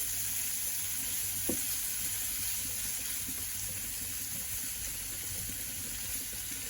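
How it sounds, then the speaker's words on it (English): Vegetables, peppers cooked alongside steak, sizzle and sauté in a hot pan, a continuous close frying hiss with an occasional stir or scrape and no talking. "Let's cook our vegetables up. Give it a little saute."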